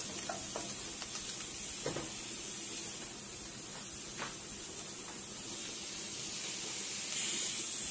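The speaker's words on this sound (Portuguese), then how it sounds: "Aí a gente vai refogar a bertalha." Malabar spinach (bertalha) sautéing in a hot pan gives a steady, close sizzling hiss throughout, with a few soft stirring clinks and scrapes.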